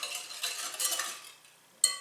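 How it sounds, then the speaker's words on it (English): Granulated sugar is whisked into bread ingredients in a bowl: a quick run of light, close scraping strokes that fade out, then one sharp clink at the end. "Give this a quick whisk."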